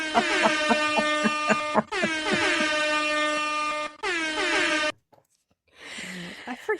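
An air horn sound effect blares on a podcast in three long, loud blasts with brief gaps between them, followed by a fainter, noisier burst at the end.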